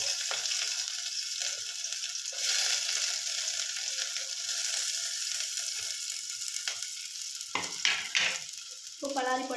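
Chopped onions sizzle and crackle steadily in hot oil while making pasta, a bright continuous frying hiss with brief stirring scrapes near the end.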